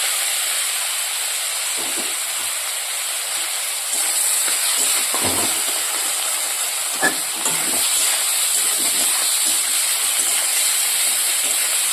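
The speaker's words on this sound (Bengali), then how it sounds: "গরম চিনি দিয়ে দিই" Steady, loud hissing sizzle from hot sugar added to a cooking pan, a bright continuous frying wash with a few soft clinks and stirring knocks breaking through, no voices.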